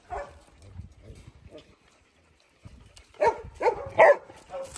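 Small puppies give a short run of high yips and whimpering barks close by. Quieter sounds and people talking in Filipino come before them.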